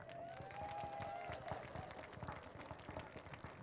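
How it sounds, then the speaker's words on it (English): Scattered, fairly quiet crowd clapping from family and friends at a high school marching band preview show, uneven and fading, with a tone or whistle briefly sounding early on. "Not bad, give a round of applause."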